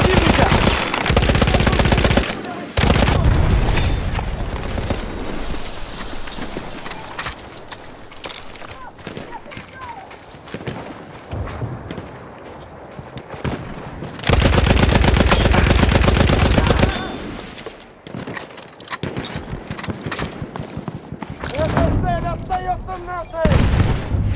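A Lewis gun fires in bursts in a video game battle on the Volga river, loud sustained clatter broken by pauses, with heavy blasts and battlefield din around it and voices shouting in the background.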